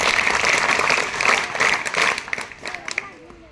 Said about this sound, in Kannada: ಅವರಿಗೆ ನೀವು ಜೋರಾದ ಚಪ್ಪಾಳೆಯನ್ನು ತಟ್ಟಬೇಕಾಗುತ್ತೆ.